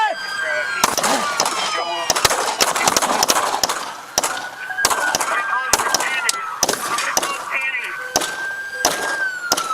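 Gunfire in a police shootout after a vehicle chase, with several officers returning fire at a suspect: loud sharp cracks in irregular bursts across the whole stretch, mixed with a wailing siren and shouted voices.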